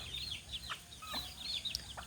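A lame chicken among a farmyard flock clucking softly, several short quiet clucks and chirps spread over a couple of seconds against low background noise.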